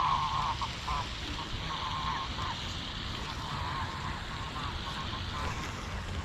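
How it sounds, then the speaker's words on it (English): Geese at a local pond honk in scattered bursts over steady outdoor background noise. The calls come from a moderate distance, with several short clusters across the span. "There's some more geese."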